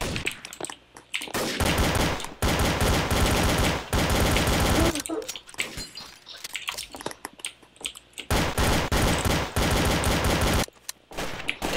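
Rapid automatic rifle fire from an M16 in Trouble in Terrorist Town, loud close bursts repeating through the stretch with brief gaps between volleys.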